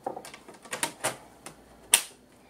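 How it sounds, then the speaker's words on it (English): An HP ProBook 4540s laptop's bottom panel is pressed back into place, giving a string of sharp plastic clicks and snaps, with a louder final snap near the end. "And then put the panel back."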